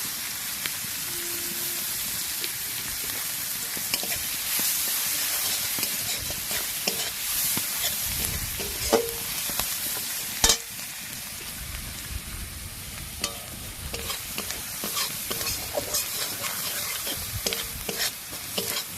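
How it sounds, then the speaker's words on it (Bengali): Chopped onions fry in a pan of hot oil for a paneer butter masala, a loud, constant crackling sizzle close by, broken by frequent scraping stirs and an occasional sharp knock of the utensil. "পেঁয়াজগুলো একটু ভাজা ভাজা হয়ে গেছে।"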